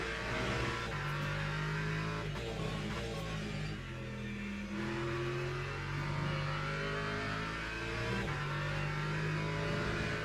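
An Alpine race car engine at Le Mans in a racing game drones and revs steadily, its pitch shifting through gear changes, loud and continuous with other cars faintly around it.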